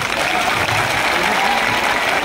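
Loud, dense applause from a large audience at an election rally in Bhagalpur, Bihar, a continuous roar of clapping from start to end with no pauses.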